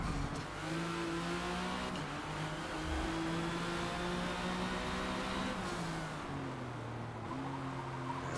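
A '97 Porsche GT1 race car in Forza Motorsport revs loudly and continuously at Catalunya GP circuit, its engine pitch climbing through gears with brief drops at shifts, steady and close throughout.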